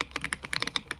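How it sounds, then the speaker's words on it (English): Rapid, uneven clicking of a computer keyboard during a game stream, a dozen or so sharp key taps in quick bursts, close and fairly quiet, with no talk over it. "I can hear every click of that keyboard, bro."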